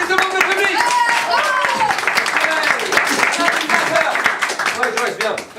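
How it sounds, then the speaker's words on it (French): Theatre audience at an improv theatresports show applauding two volunteers from the crowd, dense sustained clapping with cheering voices mixed in, loud and close throughout. "2, super, on applaudit 2 membres de public"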